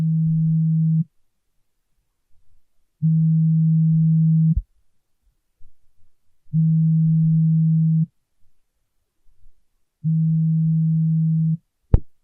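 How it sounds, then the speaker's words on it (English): A Samsung Galaxy S23's haptic vibration motor buzzes in four steady, low-pitched bursts of about a second and a half each, separated by short silences. A sharp click ends the sequence. "S23 uses a haptic style vibration motor, unlike my A52s, which has quite a horrible one."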